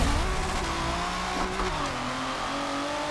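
A Kia Stinger with a mild drift tune in a driving video game, its engine revving loud and steady throughout, pitch rising and shifting without a break.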